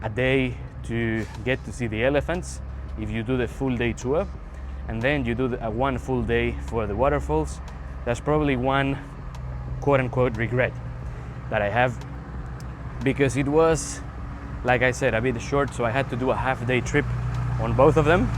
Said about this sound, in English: Excuse the noise from the truck.